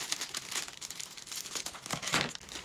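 A plastic chip bag is being cut open and crinkled, giving close, quiet bursts of crackling and rustling with a few sharper tearing snips, no voices.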